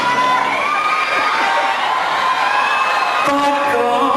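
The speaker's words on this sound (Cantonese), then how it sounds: "希望你嘅掌聲震撼人" A large concert crowd at a show cheers and screams continuously, a loud dense roar of voices that swells again near the end.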